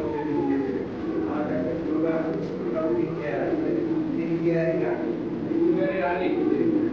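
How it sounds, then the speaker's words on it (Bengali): Soft, low Lahori Siraji pigeon coos repeat in a murmuring chorus close by on a pigeon farm, with a constant hum of background noise. "এগুলো হচ্ছে অরিজিনাল লাহোরি সিরাজি কবুতর"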